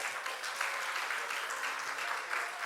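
Steady crowd applause from a devotional gathering at a Hindu religious discourse, dense continuous clapping of many hands throughout at moderate loudness, with no voices standing out.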